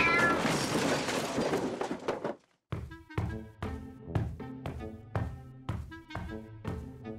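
A house cat meows several times in a row, fairly close and clear, after a short burst of noisy rustling at the start.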